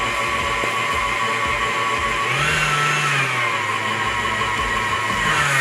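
An electric mixer runs continuously while blending fruit tart ingredients, a steady motor whine and hum with a brief rising pitch shift partway through, close and fairly loud.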